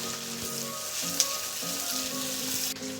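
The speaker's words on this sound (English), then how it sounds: "Now let's stir fry this for 2 to 3 minutes." Chicken stir-frying with spring onion and green chilies, a steady close sizzle with soft scraping stirs throughout and one sharp clink about midway.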